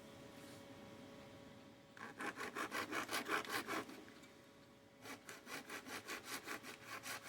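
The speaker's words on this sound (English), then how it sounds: "what I'm going to do is I'm going to cut right about here" A hand saw cuts a small piece of material for a Star Wars Legion model terrain tower, with two bursts of quick, rhythmic back-and-forth strokes separated by a short pause, close and clear.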